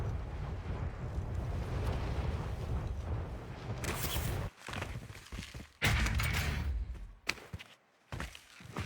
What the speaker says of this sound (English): Nebula 5 bomb has detonated in the distance.